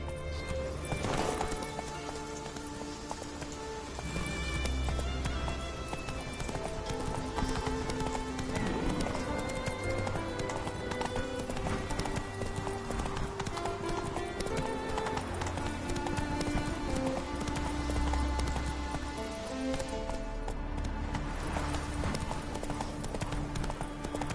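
Roach, a horse in The Witcher on PS4, gallops in a steady rhythmic clip-clop of hooves under continuous game music and ambience, with an occasional whinny, loud and sustained throughout.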